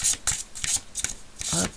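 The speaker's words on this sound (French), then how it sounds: "Alors on va regarder maintenant avec un tarot." Tarot cards shuffled by hand, several quick riffling bursts close up, crisp papery flutters separated by brief gaps.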